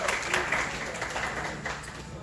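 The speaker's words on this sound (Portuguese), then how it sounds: "Salve de palmas." An audience at a talk on horror literature claps in a short, moderately faint burst of applause with a few louder individual claps standing out.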